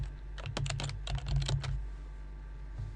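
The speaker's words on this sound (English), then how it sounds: "I'll put my password in again. Try to type it in right." Password being typed on a computer keyboard, a quick burst of close, crisp keystrokes over about a second that then stops, with a steady low hum beneath.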